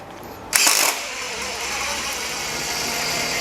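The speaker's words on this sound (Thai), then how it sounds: "ผมขันสกรูออกนะครับ จะเป็นยังไงครับ" A Makita 40V TD001G cordless impact driver backs out a screw with a sudden loud burst of rapid ratcheting hammering, then settles into a sustained whirring, mechanical drone close by.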